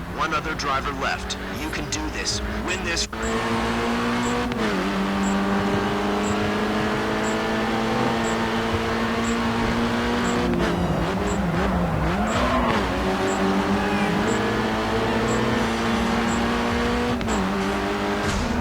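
Race cars in the GRID 2 racing game roar continuously, engines shifting pitch through gear changes with bursts of tire noise, loud and steady throughout as someone talks over it.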